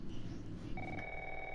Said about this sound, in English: Oh, phone's going off.